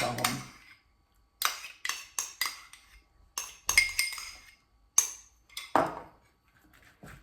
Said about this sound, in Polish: I mieszam do połączenia się składników.